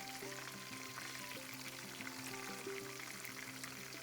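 Fish frying in a pan, a steady, close sizzle and crackle of hot oil running continuously with no pauses and no talking.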